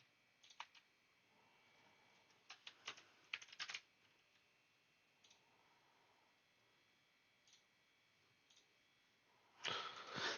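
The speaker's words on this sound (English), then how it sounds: "Sorry, I'm typing out some shit." Bursts of typing on a computer keyboard, quick clusters of quiet clicking keys separated by pauses, close but faint in an otherwise silent room, ending in a louder flurry of keystrokes.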